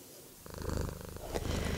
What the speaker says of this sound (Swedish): Lilla Mjau spinner